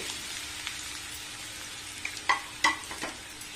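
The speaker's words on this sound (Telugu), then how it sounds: "ఇదే నూనెలో తరిగి పెట్టుకున్న కాకరకాయ ముక్కల్ని వేసుకోండి." Bitter gourd pieces fry in oil with a faint, soft sizzle, and a couple of sharp clinks of a utensil stir the pan near the end.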